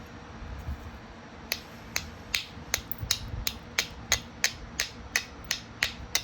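Flintknapping by direct percussion on a flat stone: a run of about twelve sharp, clicking strikes, each a short crack, falling at a fairly even pace. The strikes are close and distinct over a quiet background, with no speech.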